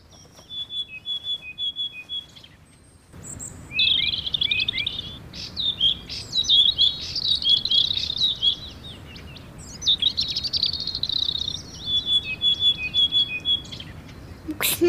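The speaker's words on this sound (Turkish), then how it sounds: "Bu kuşun adını biliyor musun abla? Bülbül. Çok güzel ötüyor." Bright, whistled nightingale song phrases repeat through the clip, loud and close, with short pauses between bursts and a low background rumble underneath.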